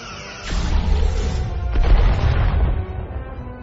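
Starship weapons fire and impacts in Star Trek Resurgence: a heavy booming discharge followed by rumbling, crashing hits and a lingering low roar, loud and without talk.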